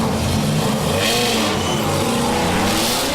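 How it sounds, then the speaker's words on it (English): A Dodge Viper and a 2010 Ford Mustang drift through the first turn at a Formula Drift finals, their engines a loud, continuous, close roar that barely varies over a few seconds. "American muscle all over the track here with a Dodge Viper and a 2010 Ford Mustang initiating that first turn"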